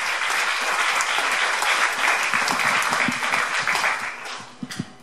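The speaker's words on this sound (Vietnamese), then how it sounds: "xin quý vị vỗ tay cho anh Dương Hồng Thạch" Audience applause for an interview guest: loud, sustained clapping from a crowd that thins to a few scattered claps at the end.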